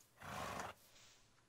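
A horse in the video game Minecraft lets out one quiet, rough neigh-like call of about half a second, heard alone over a low background.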